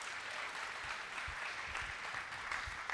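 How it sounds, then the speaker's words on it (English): A conference audience gives a steady round of applause to welcome a panel discussion on local investing, dense and even clapping filling the room throughout with no talk over it. "round of applause, go ahead"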